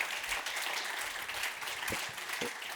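An audience claps for the moderator at the close of a day of dialogues on the ecological and energy transition. The applause is steady and sustained, a full crowd clapping throughout with no pause.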